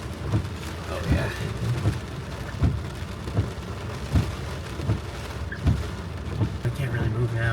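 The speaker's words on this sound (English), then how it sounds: "we were about to get slammed by the full force this storm had" A severe thunderstorm in Rome, New York, with damaging winds above 70 mph and rain, gives a steady close roar of rain and wind broken by repeated heavy low thumps about every half second to second.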